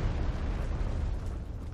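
A deep, rumbling explosion from the video game Dark Souls III, Ashes of Ariandel DLC, booms heavily in the low end and holds as a thick, sustained roar for nearly two seconds.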